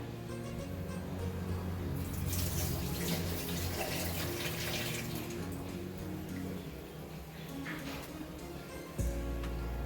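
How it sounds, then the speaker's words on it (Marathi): Soaking water is poured off lentils, running and splashing steadily in a continuous rushing flow with a low hum underneath. "याच्यावरचं पाणी काढून घेऊया"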